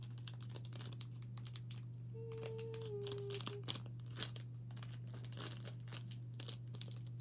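Plastic packaging of a Walmart two-pack of mochi being opened, with close, irregular crinkling, crackling and small ticking sounds over a steady low hum, no speech.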